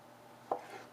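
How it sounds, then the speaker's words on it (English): A knife cuts a single quick slice through a beet, making a short crisp chop on a cutting board in a quiet kitchen. "and then just make slices. Not too big, close to about maybe a 1/4 inch thick slice."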